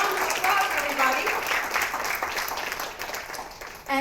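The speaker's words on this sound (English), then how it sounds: "Put your hands together in a massive round of applause, everybody." An audience at a marketing conference fireside chat in Dubai applauds speakers, a dense, sustained burst of many hands clapping that fills the room, easing slightly near the end before a fresh swell.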